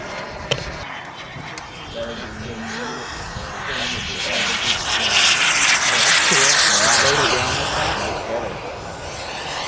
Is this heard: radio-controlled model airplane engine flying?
yes